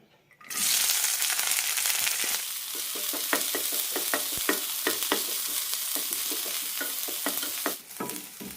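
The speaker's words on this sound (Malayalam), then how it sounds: "ഇതിലേക്ക് കുറച്ച് വെളുത്തുള്ളി അരിഞ്ഞത്, സവാള അരിഞ്ഞത്, ചെറിയ ഉള്ളി അരിഞ്ഞത് ഇടാം." Chopped garlic, onion and shallots fry in oil in a pan for a pumpkin curry, a steady crackling sizzle starting after a brief quiet moment, punctuated by repeated sharp clinks and scrapes of a spoon stirring, close and fairly loud throughout.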